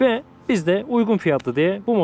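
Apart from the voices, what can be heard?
No everyday noises stand out.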